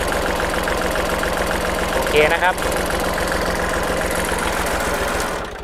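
A used Kubota L3608 diesel tractor engine idles steadily with a low, even rumble throughout, while someone briefly speaks over it near the middle.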